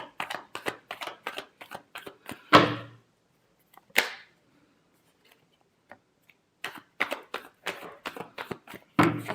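Tarot cards being shuffled by hand in crisp bursts of rapid riffling flicks, with a couple of sharper snaps and quiet pauses between bursts, close and clear.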